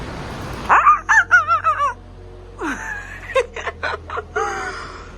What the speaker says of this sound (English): there's a bird on somebody's patio